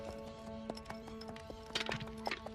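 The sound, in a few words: horse hooves approaching in cartoon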